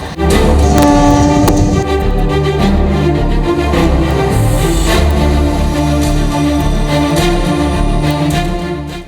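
Local train running with passengers in the ladies' compartment: a loud, continuous rumble and rattle of the moving carriage fills the whole stretch, with a brief horn-like tone near the middle.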